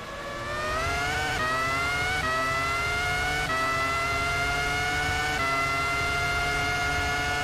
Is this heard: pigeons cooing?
no